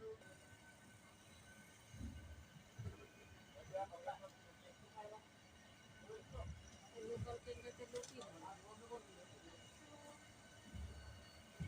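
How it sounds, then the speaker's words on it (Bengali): Passenger train on the Howrah to Khurda Road run gradually picking up speed, a low rumbling rattle with rhythmic wheel thumps rising and falling at moderate distance, with voices talking intermittently over it. "এইভাবেই আমাদের ট্রেনটি সামনের দিকে যতই এগোচ্ছে তত ট্রেনের গতিবেগ ধীরে ধীরে বেড়েই চলেছে"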